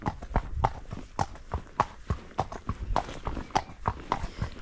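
Several horses mooch around a yard, their hooves clip-clopping in an irregular series of sharp, fairly close knocks, with no talk.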